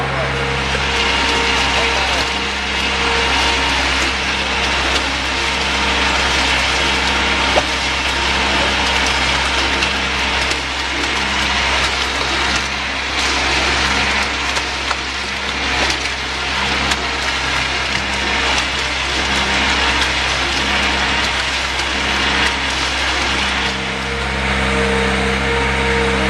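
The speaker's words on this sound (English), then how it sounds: "We're going to just circulate the material back to the receiving hopper to show you how the pump operates." A skid steer shotcrete pump attachment circulates material back into its receiving hopper, giving a steady, loud mechanical engine-and-pump drone with a constant hum and rattling texture that holds unbroken throughout.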